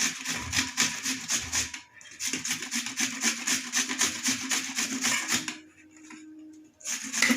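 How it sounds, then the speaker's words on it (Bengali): A peeled raw onion is rubbed against a metal grater in a home kitchen, giving steady rhythmic rasping strokes up close. The strokes pause briefly near the end and then resume. "ধুয়ে রাখা খোলা ছাড়ানো পেঁয়াজটাকেও আমরা ঘষে নেব আলুর সাথে"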